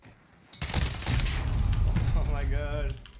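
Gunfire from a pistol in a night-time gun-game match, a dense burst of close, overlapping shots beneath excited voices talking throughout.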